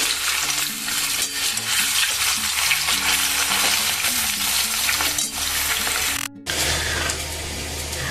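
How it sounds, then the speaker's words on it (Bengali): Potatoes fry in hot oil in a home kitchen, a steady loud dense sizzle running throughout, with faint background music and a brief break near the end. "আলুগুলো দেখুন কি সুন্দর ভাজা হচ্ছে।"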